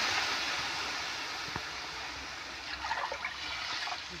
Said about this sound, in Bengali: আমি 2 কাপ পানি দিয়ে দেবো এখানে।